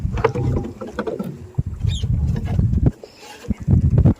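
A boat on the Godavari river being pushed along, with close, busy bursts of water splashing and knocking against the hull, a short dip near the end, and a brief bird call overhead.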